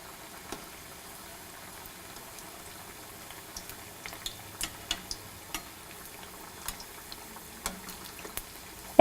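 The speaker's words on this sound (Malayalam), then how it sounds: "ചൂടുള്ള എണ്ണയിലിട്ട് ഇതുപോലെ ഫ്രൈ ചെയ്തെടുക്കുക" Onion fritters (ulli vada) fry in hot oil with a faint steady sizzle and scattered soft pops and crackles that grow more frequent midway, with no talking.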